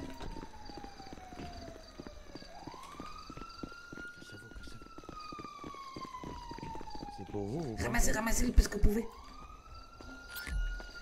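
A police siren in a video game wails in long rising and falling sweeps while people talk excitedly over it, with a burst of noisy clatter near the end.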